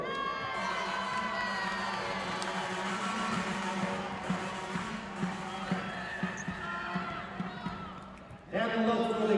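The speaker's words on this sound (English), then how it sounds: "The crowd's pretty rocking." A packed arena crowd at a women's college volleyball match, Grand Canyon University against Dixie State, keeps up a loud, continuous roar of cheers and shouts, with scattered thuds and a sudden swell near the end.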